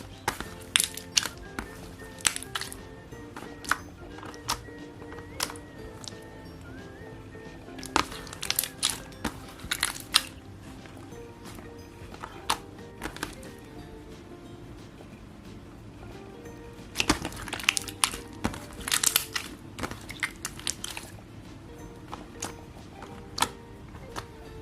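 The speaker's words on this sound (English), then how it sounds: "it has a lot of nice clicks and bubble pops as well" Mixed slimes being squeezed and stretched by hand make irregular wet clicks, crackles and small bubble pops, close and fairly quiet, coming in bursts with short calmer gaps.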